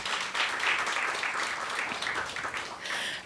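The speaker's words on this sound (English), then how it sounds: "You deserve a round of applause." Conference audience applauding a research presentation on policy briefs, a dense wash of many hands clapping at moderate distance, sustained and even throughout with no talk.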